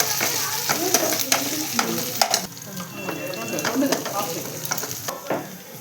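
Green chillies and curry leaves fry in hot oil for a chicken curry, giving a close, crackling sizzle broken by sharp spoon scrapes and clinks of stirring.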